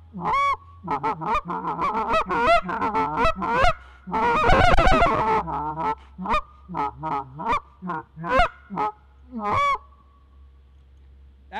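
Rapid series of sharp goose-call clucks and honks in quick bursts with a brief rolling flurry in the middle, loud and near, from a reed call imitating geese.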